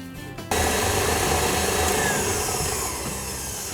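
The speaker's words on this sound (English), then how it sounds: "as you beat the buttercream, remember to use a spatula to scrape down the sides so that your buttercream is more evenly whipped up" An electric mixer beats buttercream for coconut cupcakes, starting abruptly and then running as a steady, loud whirring drone that eases off slightly toward the end.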